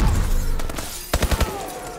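Gunfire in the video game Call of Duty: Advanced Warfare: a loud burst of several sharp shots, ending with four evenly spaced reports close together.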